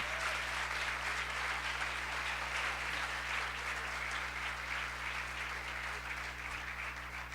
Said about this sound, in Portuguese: Pode aplaudir o Senhor, porque isso é profético.